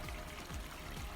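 A backyard garden water feature beside a fish pond trickles softly and continuously, a faint, steady wash of running water with no talking.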